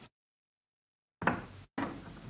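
A bedroom door slides softly open in an audiobook sound effect: after a silent pause, a brief muffled knock-like thud is followed by a soft, breathy sliding rush, cut by a short gap and then resuming, quiet and close.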